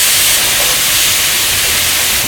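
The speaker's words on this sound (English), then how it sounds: "as soon as that gets nice and hot, go ahead and start sauteing your onions" Onions sizzling in hot olive oil in a pan, a loud, steady, close hiss with no break and no voices.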